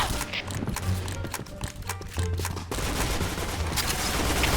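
Rapid bursts of gunfire fill a video game match, dense and continuous close up, with fainter shots and clatter running beneath throughout.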